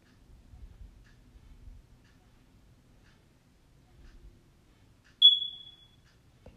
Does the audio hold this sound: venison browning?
no